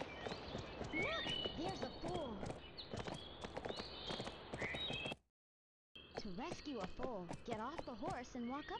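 A horse gallops in Barbie Horse Adventures, with a rapid run of hoofbeats under bright melodic game tones, broken by a brief silent gap before the galloping resumes.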